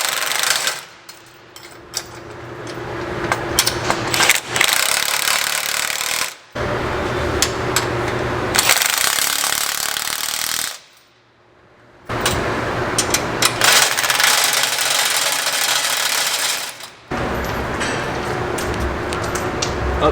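A power tool torques down bolts on a 2023 Ford F350 in a shop, loud rattling bursts of several seconds each separated by short pauses.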